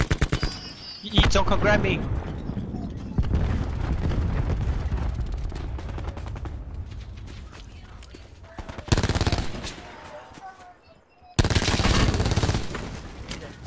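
Rapid automatic gunfire bursts and machine-gun chatter in the Call of Duty Black Ops 4 Blackout video game, loud rattling volleys that start and stop, with a player talking between them.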